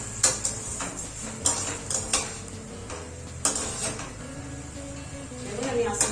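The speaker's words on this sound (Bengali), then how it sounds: "দেখুন, আমি আস্তে আস্তে কষাতে থাকছি।" A spatula scrapes and clinks against a pan as fish-head masoor dal is stirred and sautéed, with irregular metallic taps and a light sizzle beneath a person talking.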